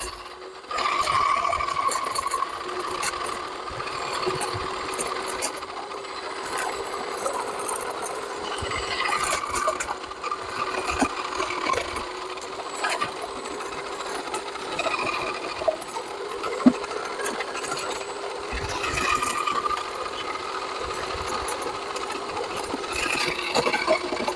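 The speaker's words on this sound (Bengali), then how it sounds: "আমাদের এই মেশিনের মাধ্যমে আপনি করলার বিচি সহ কেটে ফেলবেন।" A Niyama electric food processor slices bitter gourd with the seeds still in, giving a continuous mechanical whir and rattle with small clicks and knocks scattered through, steady and fairly close, no talking.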